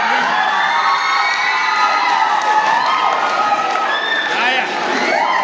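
Children's crowd at a Sunday school drama and culture competition cheers and shouts loudly and steadily throughout, with high excited voices and some clapping mixed in.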